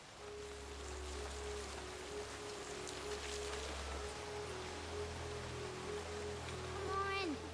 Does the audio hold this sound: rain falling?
yes